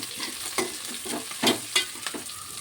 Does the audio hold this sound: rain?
no